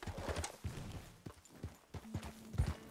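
Horse hooves clip-clopping at a riding pace through the Red Dead Redemption 2 game world, a fairly close, irregular run of soft hoof thuds under a low background of game ambience.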